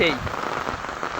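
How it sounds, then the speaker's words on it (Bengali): Steady rain patters in a dense hiss amid strong wind and lightning in Kurigram, Bangladesh, with a brief chirpy sound at the start and no talking. "বৃষ্টি হচ্ছে দেখুন এখানে, আমাদের সেই বৃষ্টি হচ্ছে"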